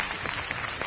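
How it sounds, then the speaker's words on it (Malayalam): Audience applause on a Malayalam TV talk show, a short burst of dense clapping at moderate level. "ഒരു ഉഗ്ര കൈയടി കൊടുത്തോ"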